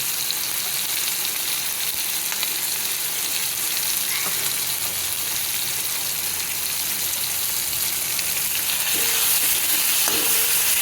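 Tomato, green chili, cumin and Kashmiri chili fry in a hot pan, giving a dense, loud, continuous sizzle with a few faint clinks of stirring near the end.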